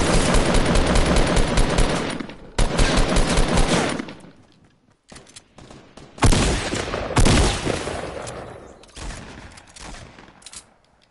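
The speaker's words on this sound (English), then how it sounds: "A shotgun." Heavy bursts of gunfire in Fortnite, loud and close, with long rapid volleys broken by short pauses and a quieter stretch near the middle, including booming shots that fit a shotgun.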